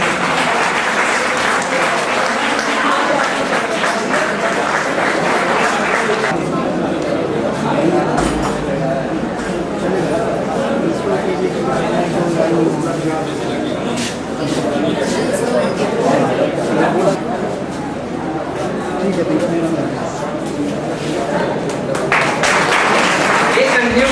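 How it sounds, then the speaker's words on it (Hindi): Audience applause during a lamp-lighting ceremony at a COC Patna farewell party in 2011: a dense, loud wash of clapping that continues for the full stretch, easing slightly mid-way before swelling again, with some crowd chatter mixed in. "जैसे ही दीप प्रज्वलित हो, कृपया ताली बजाकर इसका स्वागत करें।"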